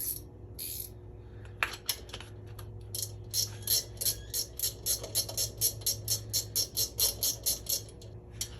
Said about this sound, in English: So now I could just go back to a ratcheting wrench